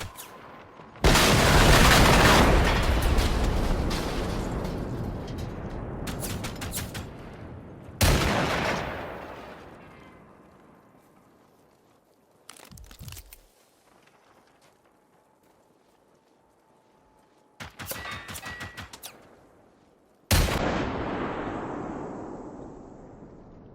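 A car bomb trap detonates in the Generation Zero video game, a loud close blast that rumbles and fades, followed by further sharp booms and bursts of gunfire across the fight.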